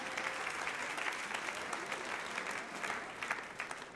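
Church congregation claps warmly, a continuous, fairly quiet spread of many hands with slight swells, heard from a distance in a large room.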